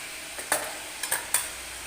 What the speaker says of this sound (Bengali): এই হলুদটা দিয়ে আরেকটু নেড়ে চেড়ে এটা নিলাম, আরেকটু নেড়ে চেড়ে নেব